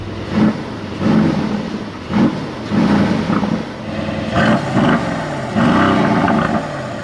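The exhaust of a 2021 Mercedes-AMG GLE 63 S burbles at close range with a series of rhythmic revs and crackling pops, several pulses in a row over a rumbling idle.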